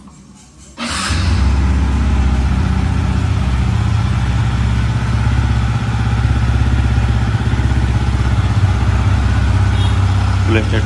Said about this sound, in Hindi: पहले हमारा गाड़ी को कूल स्टार्ट दे देते हैं बाइक को